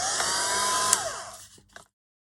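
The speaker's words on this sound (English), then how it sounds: "I'll just get the heat gun out now. I think that's dry enough." A heat gun blows hot air over a craft cluster piece, a loud steady whoosh that runs for over a second, then cuts off and tapers away, with a faint clatter just before silence.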